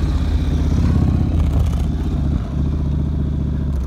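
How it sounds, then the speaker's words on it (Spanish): A motorcycle rides alongside runners in a 5K road race in Tijuana, its mid-pitched engine loud and close, droning steadily with a slight drop partway through, without talking. "Vamos a dejar que pase la moto"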